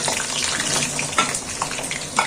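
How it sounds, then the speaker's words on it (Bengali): Potato pieces for a Bengali mutton curry fry in hot oil, a dense, loud, continuous sizzle and crackle with a few brief bright pops, no voices. "আলুগুলো আমি ভেজে নিচ্ছি"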